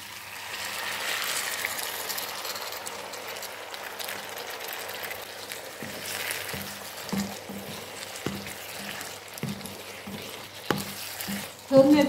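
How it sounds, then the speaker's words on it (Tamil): Tamarind water meets spiced potatoes frying in a pan for a Jaffna-style potato pirattal, giving a steady soft sizzle with a low hum underneath and a few louder clatters of stirring near the end. "இனி நாங்கள் இதுக்கு கரைச்சி வச்ச புளியை விடுவோம்."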